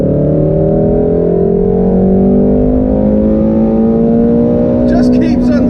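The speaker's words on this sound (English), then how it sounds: "Just keeps on revving as well." A Shelby GT350 V8 engine revs hard and climbs steadily in pitch as it holds near the top of its range, loud and close from inside the car. A voice reacts briefly near the end.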